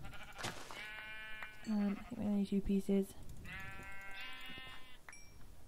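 Blocky Minecraft sheep bleat several times in short, wavering calls, moderately loud and close, while a person talks over part of it.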